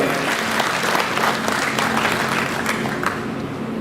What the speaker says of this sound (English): a big clap for all of them.